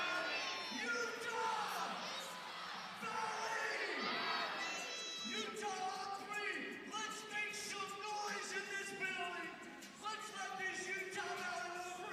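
Wrestling meet crowd in an arena roaring and cheering as a hype man works them up at center mat, loud sustained shouts and whoops rising in waves for several seconds, with voices calling out over it.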